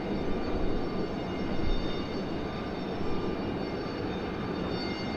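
A C-130 turboprop at Raleigh-Durham airport gives a steady, fairly loud engine roar with a sustained whine. The sound holds evenly across the whole stretch, with no voices.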